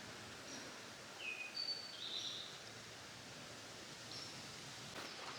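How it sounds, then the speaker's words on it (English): A bird sings in the trees along the Appalachian Trail in summer brush, a few thin, high chirps over faint rustling woodland ambience, distant and quiet. "There's a bird somewhere up there. I hear it singing."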